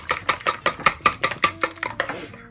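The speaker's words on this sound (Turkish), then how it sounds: "3 tane yumurtayı şu şekilde kırıyoruz ve çırpacağız" Three eggs are beaten in a bowl, giving about a dozen quick, sharp clinks in a brisk, fairly regular rhythm, close and clear, with no talking.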